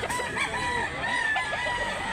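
Roosters crow at a chicken market in Mantalungon, Barili, Cebu, their calls rising and falling back to back in a steady, fairly close chorus with no talk.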